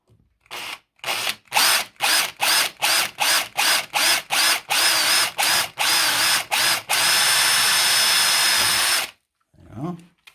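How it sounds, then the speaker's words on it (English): A power drill bores a pilot hole for a self-tapping screw in an electrical back box lug, starting with short stop-start bursts, then running in one sustained whine before stopping, followed by a brief rustle. "I'm going to put a pilot hole into the centre of that."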